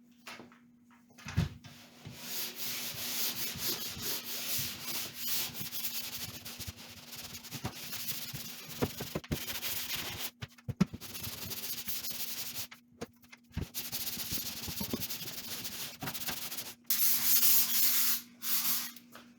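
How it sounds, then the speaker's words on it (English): Long rhythmic rasping strokes of a fabric-covered pole sander across drywall in a basement, close and steady, with a few brief pauses and a low hum beneath. "At the sanding phase, I'm using a pole sander with fabric on it."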